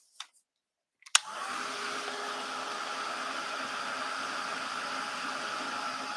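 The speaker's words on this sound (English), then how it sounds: "let me dry this area that's wet real quick" After a couple of brief clicks, a dryer switches on and blows steadily to dry wet paint on an art background, a constant whooshing roar that holds close and even to the end, no voices.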